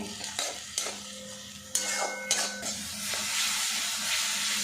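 A spoon stirs tomato chutney with sugar in a hot kadai, making a few clanks and scrapes against the pan over a steady sizzle of frying. No one speaks.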